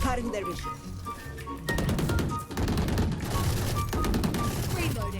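A gun in Valorant fires long, rapid automatic bursts, dense and loud and close up. Brief gaps split the bursts, and a voice speaks over the shooting.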